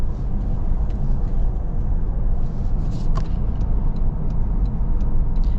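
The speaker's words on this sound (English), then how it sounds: "You do hear some more noise from the tires. Again, they're more aggressive all-terrains." Cabin of a 2025 Toyota 4Runner TRD Off-Road with a four-cylinder engine, rolling on aggressive 35-inch all-terrain tires, giving a steady, loud low roar and rumble of tire and road noise throughout, with a few faint clicks.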